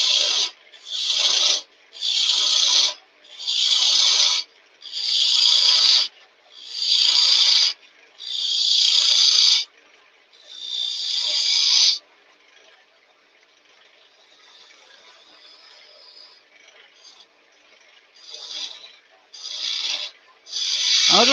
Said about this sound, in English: Using the 1/4 inch skew as I always do.